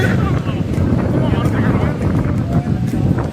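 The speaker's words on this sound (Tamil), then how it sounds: "சவுண்ட கேட்டீங்களா? காத்து பீஸு." Strong gusty wind buffets the microphone atop Doddabetta Peak in Ooty, a loud, continuous roar of broadband rumble and whoosh that fills the whole stretch with no pause.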